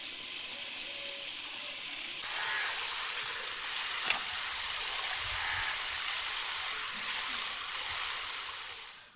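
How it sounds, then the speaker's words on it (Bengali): Tap water runs steadily as a fish is washed, a broad rushing hiss that starts abruptly after about two seconds and continues to the end. "ওইদিকে মা মাছটা ধুয়ে নিচ্ছে"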